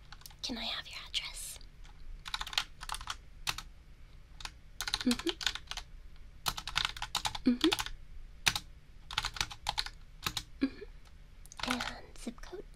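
A computer keyboard being typed on in bursts of quick, close, soft clicks with pauses between, while someone whispers at intervals, for a library database entry.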